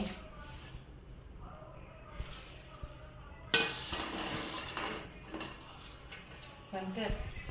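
Atukulu talimpu, tempered flattened rice, is stirred slowly up and down in a pan, giving soft scraping, light clatter and faint sizzling over several seconds, with voices murmuring quietly in the background.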